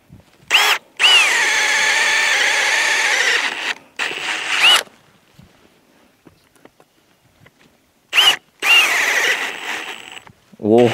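Milwaukee M18 Fuel cordless impact drill whining at speed 2 on hard fir wood, in two loud sustained bursts with short starts and stops and a quiet pause between them.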